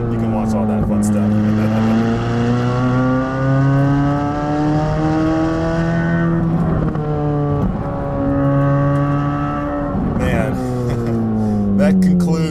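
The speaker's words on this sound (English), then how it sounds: "For me, I like listening to the motor sound instead of watching the sunset." A Corvette C8 ZR1 driving uphill gives a loud, close engine drone that climbs in pitch through each gear, with sharp drops at the shifts. It stays strong and steady throughout, with no distinct speech.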